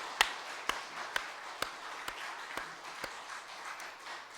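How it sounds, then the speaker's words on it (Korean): A church congregation claps together in a sanctuary for the church's 60th anniversary service, a steady wash of many hands with a few sharp louder claps standing out at regular intervals. "우리 하나님께 영광의 박수 한번 드리겠습니다"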